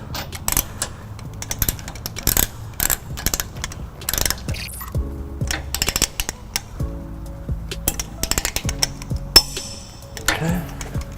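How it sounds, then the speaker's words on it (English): Torque wrench tightening the bolts of a trailer hitch on a 2018 Lexus GX 460, ratcheting in close sharp bursts with mechanical clicks and a distinct click when torque is reached, alone without talk. "once we reach our proper torque, you should hear your torque wrench give you a click"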